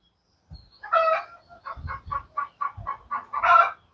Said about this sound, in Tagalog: Putak ng putak.